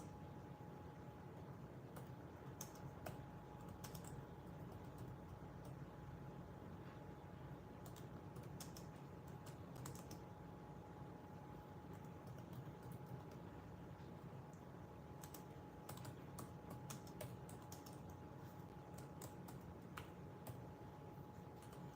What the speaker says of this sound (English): Let me type it. I'll type that.